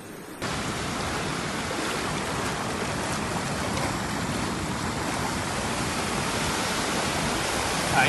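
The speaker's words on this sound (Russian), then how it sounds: "Это море." Sea water makes a steady, dense wash of noise, loud and unbroken like surf or heavy spray, with no voices.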